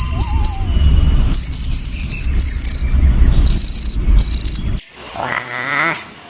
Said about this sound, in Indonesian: Wadidaw, ini jangkrik teman-teman.